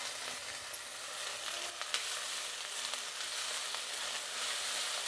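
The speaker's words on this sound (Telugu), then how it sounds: "దీన్ని కూడా బాగా వేయించుకోవాలి." Fresh coriander and mint leaves fried in a pan while making a Karnataka-style donne biryani masala, giving a soft continuous sizzle with faint stirring, fairly quiet and close, with no talking.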